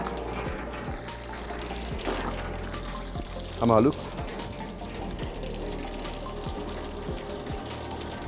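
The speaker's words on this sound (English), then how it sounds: "So you can see the water actually comes out of a pipe like this" Water pouring steadily out of a pipe on Mount Suswa, a continuous close splashing flow with voices speaking over it.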